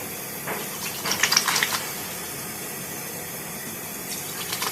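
Water running from a sink tap while hands are washed with a homemade goat's milk soap containing honey, oats, turmeric and charcoal; a steady, moderately loud splashing flow that swells briefly, with no talking.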